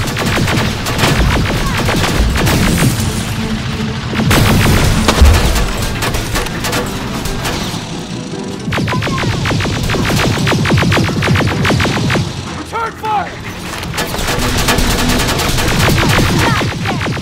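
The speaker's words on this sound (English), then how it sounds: "She's firing!" Sustained automatic gunfire from a Terminator Annihilation Line battle: rapid, loud machine-gun bursts with heavy booms, a brief lull near the middle, then the volleys resume just as intensely, with no talking.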